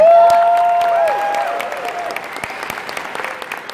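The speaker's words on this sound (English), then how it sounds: "Another round of applause for these guys." A convention audience at BronyCon 2019 claps steadily, the applause fading slightly over a few seconds with a brief musical tone ringing at the start.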